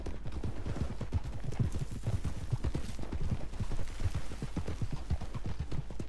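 A herd of wild American Paint horses in Red Dead Redemption 2 gallops past, hooves drumming in a rapid, uneven clatter over a constant low rumble.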